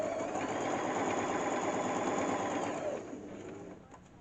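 A sewing machine runs steadily while stitching a padded cushion cover, a fast even whir that holds loud and close for about three seconds, then eases down and fades as it slows.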